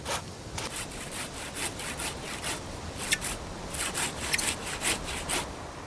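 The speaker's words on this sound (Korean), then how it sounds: "장인이 잘라낸 나무에 다시 톱질을 해서 가지가 쭉 뻗어나온 부분만 선별한다" Hand saw cutting felled pine by a craftsman making a traditional Korean jige A-frame carrier, with steady back-and-forth strokes repeating in a brisk, even rhythm, close and clear without speech.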